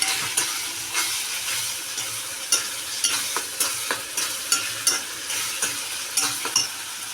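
Coriander and green chili paste frying in a pan for dry chicken, a steady close sizzle broken by rhythmic spoon taps and scrapes about every half second as it is stirred, no talking.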